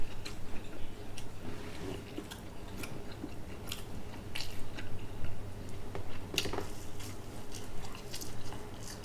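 Close, soft chewing and biting of vegan pizza and hot wings dipped in vegan ranch, with wet smacking clicks scattered over a steady low hum.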